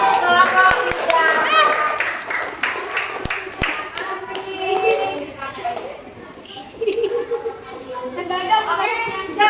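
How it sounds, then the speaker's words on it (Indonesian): A school class claps for a student group in a classroom, a short burst of sharp handclaps mixed with children's chatter and a teacher speaking over it. "Beri tepuk tangan untuk kelompok 3."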